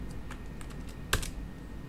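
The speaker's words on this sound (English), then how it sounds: "press Ctrl F on the keyboard and search" Typing on a computer keyboard, a few soft scattered key taps with one sharper, louder click near the middle, close and alone with no talk.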